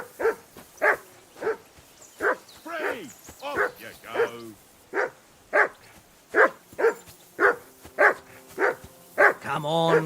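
A dog in the medieval video game Kingdom Come Deliverance 2 barks over and over in a steady rhythm of short, fairly close yaps for about ten seconds, with a few whiny, whimpering yelps mixed in near the end.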